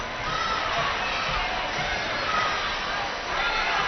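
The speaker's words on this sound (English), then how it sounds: "So the crowd's continuing to grow here, awaiting the boys Division I finals." A basketball crowd fills a high school gym ahead of a Division I finals game, a steady far-off murmur of voices and scattered shouts with no clear cheers standing out.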